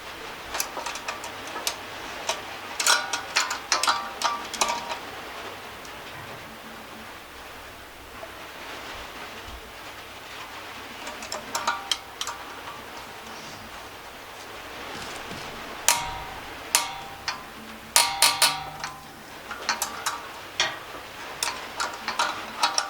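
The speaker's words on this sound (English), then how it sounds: "So I'm going to unscrew it a little bit" Biltema G 2502 gasoline generator valve adjuster being unscrewed by hand, a run of small, close metallic clicks and ticks in irregular bursts over a faint steady hiss, with no talking.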